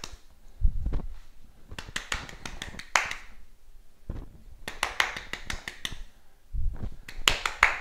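Quick bursts of hand claps at home during a tennis ball catching drill, several rapid claps in clusters separated by brief pauses, close and crisp with soft thuds between.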